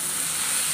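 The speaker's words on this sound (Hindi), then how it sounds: "थोड़ा सा और फ्राई करेंगे ऐसे ही" Raw papaya vegetable curry sizzles steadily in a hot pan, a brief, even hiss of frying with no voices.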